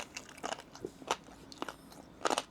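Someone bites and chews barbecue pork rib steak, giving several short crunchy bites spaced across a couple of seconds, close and fairly quiet with no talk.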